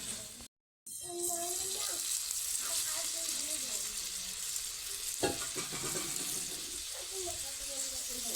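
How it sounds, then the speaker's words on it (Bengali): Masala paste sizzling and frying with water added in a pan for a fish curry, with stirring scrapes and bubbling over a steady hiss, near and continuous after a brief silence, with some faint voice. "জল দিয়ে মশলাটা ভালোভাবে কষে নেব"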